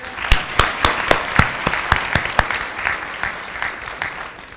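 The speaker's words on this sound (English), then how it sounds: "I want you to clap more than that." Conference audience clapping at a health gathering in Uganda, with about a dozen sharp, distinct claps in an uneven rhythm over a softer wash of hand noise, fairly close and moderately loud.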